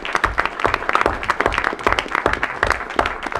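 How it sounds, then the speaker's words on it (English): A hearing audience applauds for about three seconds, sharp overlapping claps forming a close, steady patter with no voices over it. "So let's give him a round of applause."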